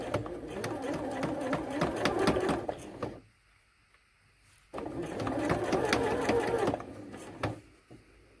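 Home sewing machine stitching a zippered fabric tab closed: two close, busy runs of rapid mechanical whirring and needle clatter separated by a brief near-silent pause, then slowing toward the end.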